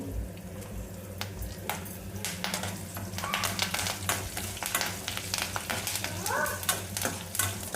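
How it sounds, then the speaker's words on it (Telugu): Urad dal, curry leaves, green chillies and onions fry in oil with a steady close sizzle, broken by repeated scraping stir strokes and light clinks of a spoon against the pan, with no talk. "బ్యాళ్ళు అన్నీ మంచిగా వేగేంత వరకు ఫ్రై చేసుకోవాలి."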